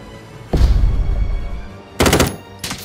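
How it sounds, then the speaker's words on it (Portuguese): Loud bursts of automatic gunfire in the video game Jagged Alliance 3 crackle in two short volleys over a constant background hum, with a brief extra shot at the end. "Tô atirando em algo invisível."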